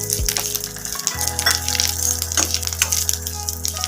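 Vermicelli and sago roast lightly in a small pan, giving a steady crackling sizzle with faint scraping, close and continuous with no talk.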